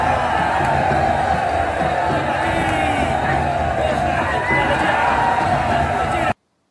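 Loud, steady crowd cheering and shouting from a Rambo video game, continuous roar that cuts off abruptly at the end, with talk over it.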